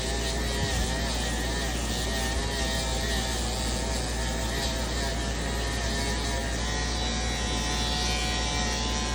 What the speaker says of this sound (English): beveling the edges. Just a slight bevel on those